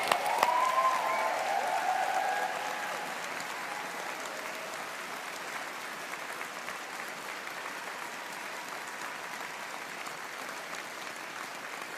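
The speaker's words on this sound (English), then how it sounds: "Let's all give our autumn graduates of 2024 a big round of applause." A large graduation ceremony audience applauds the autumn engineering graduates, a broad even wash of clapping that is a little louder at first, then settles to a steady level for the full twelve seconds.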